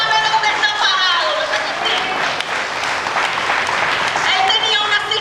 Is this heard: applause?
yes